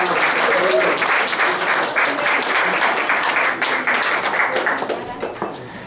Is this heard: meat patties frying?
no